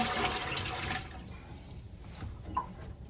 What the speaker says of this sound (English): take our nasty filter out, dump the water that's in there